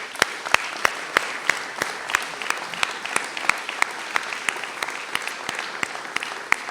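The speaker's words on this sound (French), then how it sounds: "Ils méritent nos applaudissements." Crowd applause at a municipal New Year's greetings ceremony honoring the town's central kitchen team: dense steady clapping with sharp individual claps standing out, sustained evenly throughout without speech.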